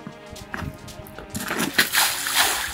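Water splashes and sloshes from a bucket, soaking a person, with a few scattered splatters early on building into a louder, sustained rush of splashing in the second half, close by.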